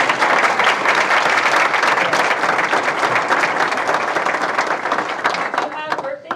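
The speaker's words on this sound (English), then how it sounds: "let's do a little applause" Audience applause at a judicial investiture ceremony, loud and dense from the start, gradually thinning and fading toward the end as scattered voices and a brief sound emerge.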